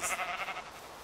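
A sheep bleats in Minecraft, one wavering, nasal bleat that starts loud and fades over about a second, heard alone without speech.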